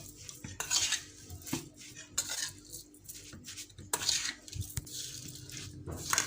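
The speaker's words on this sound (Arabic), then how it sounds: "وهقلب كل الخلطه دي كده مع بعضها." A metal spoon clinks and scrapes around a bowl of salted pickle mixture in short, irregular bursts, mixed with soft wet squishing, heard up close.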